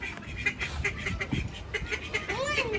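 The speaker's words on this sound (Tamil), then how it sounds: "அங்க பெரிய பெரிய வாத்து ஒயிட் கலர்." White ducks quack at a bird park in Trichy, several short calls scattered through a busy, chattery crowd, with one longer rising call near the end.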